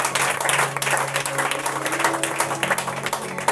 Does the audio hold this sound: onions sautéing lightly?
no